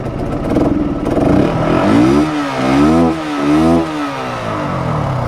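A Yamaha R15 V2 motorcycle engine, taken in after an accident, revs hard up close in several rising and falling surges that come loud and alone over a steady idle clatter.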